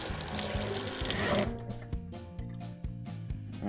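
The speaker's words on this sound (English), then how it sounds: "Rinse this out real quick like" Tap water runs briefly into a sink as a cake decorating tip is rinsed, a close splashing hiss that cuts off after about a second, followed by light clinks and handling noises.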